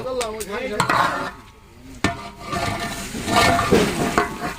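A big spoon stirs food in a large pot during cooking for a first birthday feast, with steady scraping and clattering against the metal and soft sizzling underneath, close and continuous.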